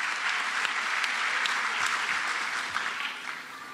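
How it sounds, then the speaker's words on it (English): An audience claps for students at the Francis C. Hammond Middle School promotion ceremony, a full, steady round of applause that gradually thins and fades toward the end. "Give them a round of applause for all the things that they have done to support their peers this year."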